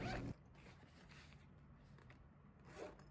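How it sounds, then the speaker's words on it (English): A short pull on the zipper of a soft carry case for a circuit tracer opens the clip, followed by a quiet rubbing of soft fabric and a faint scrape near the end. "zipper."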